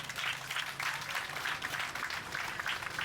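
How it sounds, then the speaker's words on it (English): Audience applause at the launch of Bloom Bank Africa Liberia Limited, a steady crackling wash of many hands clapping together for the full stretch with no break, moderately distant. "I think we should clap for the women here."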